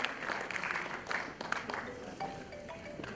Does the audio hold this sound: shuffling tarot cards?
no